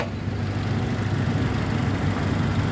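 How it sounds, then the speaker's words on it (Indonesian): A 2004 Toyota Kijang Innova 2.0 G automatic, with a 2000 cc four-cylinder petrol engine and rear-wheel drive, idles in a steady, close, low rumble with no talking. "Toyota Kijang Innova ini mengusung mesin 2000 cc 4 silinder bensin dengan penggerak roda belakang."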